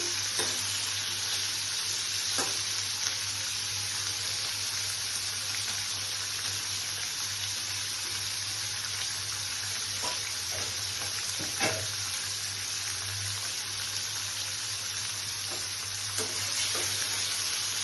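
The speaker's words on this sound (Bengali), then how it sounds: "বাটার দিয়ে ভেজে নিচ্ছি।" Paneer cubes lightly salted and frying in butter, a steady broadband sizzle throughout with a low hum beneath and a few soft clinks of stirring, no voices.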